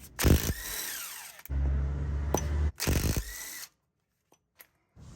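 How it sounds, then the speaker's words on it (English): A small DeWalt impact gun works 17mm bolt-style pins out of a brake caliper in three loud, close whirring bursts of about a second each, separated by short pauses and followed by faint clicks. "I'm going to see if my little DeWalt gun is up to the task."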